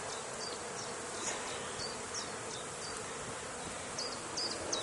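A honey bee colony buzzes steadily while being moved from a dirty winter hive into a clean beehive, a dense, continuous hum with individual bees zipping close by now and then.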